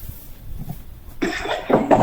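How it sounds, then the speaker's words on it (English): One person coughs a couple of times close to the microphone after a quiet stretch, two rough, harsh bursts during a board meeting. "I'm coughing because you know how it hurts?"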